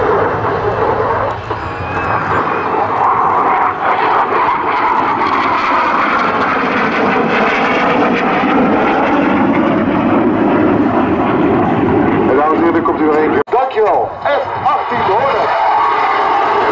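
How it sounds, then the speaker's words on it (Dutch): Swiss Air Force F/A-18 Hornet jet roaring loudly past during a flying display at an air show, a sustained, powerful jet noise that swells and sweeps by close overhead with a brief dip near the end. "F-18 te horen."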